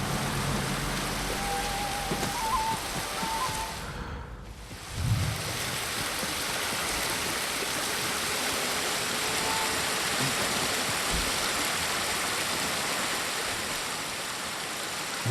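Steady rushing water from a waterfall in Ghost of Tsushima, a broad continuous wash of noise heard up close with no talking.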